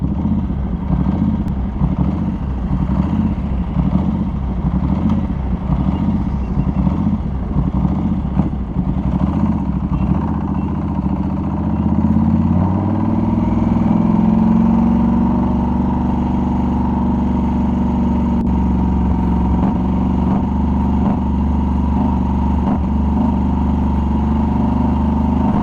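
A Norton Commando 961 SF MK II motorcycle engine idles steadily at close range, a loud low rumbling throb with a faint clatter and a slight shift in pitch partway through, with no voices.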